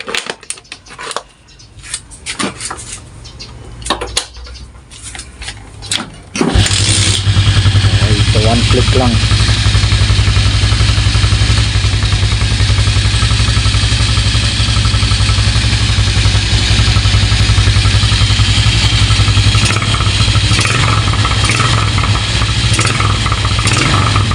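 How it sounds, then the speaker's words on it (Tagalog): A few seconds of clicking and tapping, then a motorcycle engine starts and idles steadily and loudly, close by, with a low rumbling hum. "papakita ko lang sa inyo na naayos na natin itong ating motor star"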